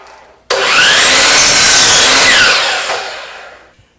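A saw rips through a 1x6 wooden board in one continuous loud cut of about three seconds, with a sudden start and a fading finish as the blade clears the wood.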